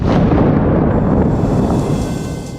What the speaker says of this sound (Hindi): रिहायशी इलाकों में भीषण विस्फोट, धमाकों से कांपती धरती